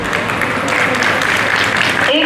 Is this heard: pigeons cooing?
no